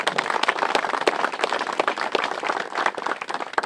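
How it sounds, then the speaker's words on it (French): An outdoor veterans' commemoration crowd in Ancinnes applauds steadily for a president, with many hands clapping in a dense, continuous patter at moderate distance and no talking over it. "On va applaudir le président Legrand."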